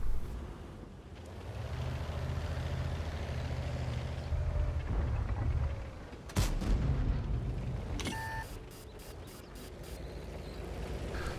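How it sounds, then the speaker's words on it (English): Heavy tank cannon shots in World of Tanks, a sharp blast near the middle followed by a rumbling tail and clanking reload tones, over a continuous engine and wind drone. "shooting the occasional pot shots to get some more damage in the middle"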